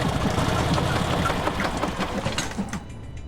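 A generator engine runs in the Metro: Last Light video game, a steady, busy mechanical chugging that fills the space and thins out slightly near the end.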